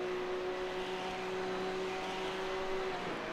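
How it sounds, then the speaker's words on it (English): A Porsche 4-litre flat-six race car engine at Spa Francorchamps, approaching Blanchimont during a Porsche Cup race, holds a steady, loud, sustained high-revving drone with a constant pitch, close and continuous throughout without talk. "Just love listening to that 4-litre flat 6"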